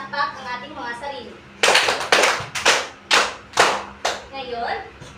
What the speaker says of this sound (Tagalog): Ibigyan ng 5 palakpak ang ating mga sarili.